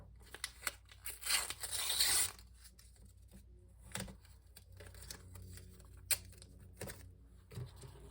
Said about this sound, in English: So grab some more pieces of tape.